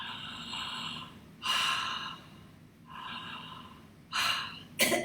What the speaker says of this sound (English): you can make a sound breathing with your mouth open